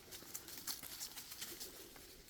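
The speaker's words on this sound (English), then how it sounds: "We came home and we found we still have Percy Pigeon" A pigeon coos softly in a garden, giving a few gentle repeated calls against a quiet outdoor background.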